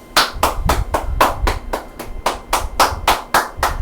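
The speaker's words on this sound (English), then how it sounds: "Applause for that." A single pair of hands clapping in a steady, even rhythm, about a dozen crisp claps, close and fairly loud with no talking.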